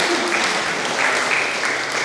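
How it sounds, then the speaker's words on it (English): A room of electric vehicle association members gives a round of applause, dense steady clapping held at an even level throughout. "can we just have a round of applause for Graham and the effort that"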